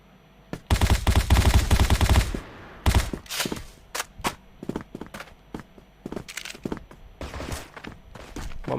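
Gunfire in a shooting video game: a long loud automatic burst, then a string of separate single shots and short volleys, close and punchy, with faint thuds between them.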